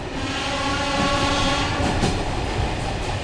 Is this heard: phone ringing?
no